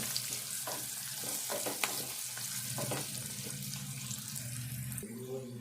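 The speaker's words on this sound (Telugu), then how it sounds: "అంతా ఒకసారి కలుపుకుందాము." Ingredients for a tomato egg curry stirred together in a frying pan, with a constant hiss of sizzling oil and scraping spoon strokes close by, ending in a brief knock.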